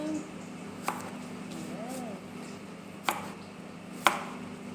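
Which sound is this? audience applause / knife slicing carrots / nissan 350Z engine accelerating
knife slicing carrots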